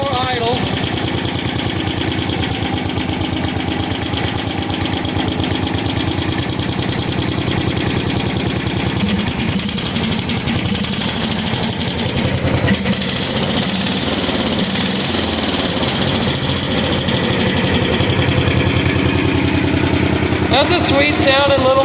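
An MTD 990 small engine running steadily after a carburetor rebuild and tuning, a loud continuous mechanical drone with rapid firing chatter, close to the microphone for the whole stretch.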